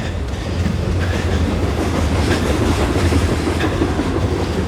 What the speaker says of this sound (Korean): 전철 좀 지나간 다음에 말씀드릴게요.